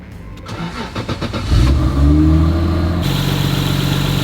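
A Nissan S14 240SX with a swapped 2JZ engine, after sitting unused for years, cranks and catches about one and a half seconds in, then settles into a loud, steady, close idle.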